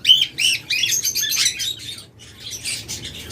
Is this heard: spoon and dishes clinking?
no